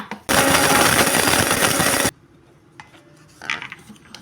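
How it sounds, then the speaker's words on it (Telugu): A kitchen mixer grinder powders mustard and fenugreek seeds in one loud, gritty whirring burst of under two seconds that stops abruptly, followed by quieter clinks and handling. "ఇప్పుడు ఆవాలు మెంతులు మిక్సీ వేసేసుకుందాం"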